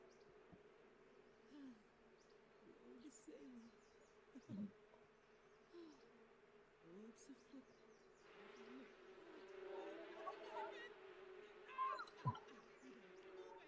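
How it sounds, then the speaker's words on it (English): Insect buzzing from bees in The Sims 4, a steady faint hum with scattered brief game effects and chirps over a quiet background, busier toward the end. "I don't know if the bees can kill us or not."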